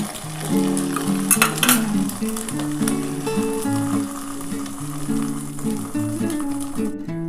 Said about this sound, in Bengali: আমি একটা একটা করে আগে ডিমগুলো ভেজে নিচ্ছি।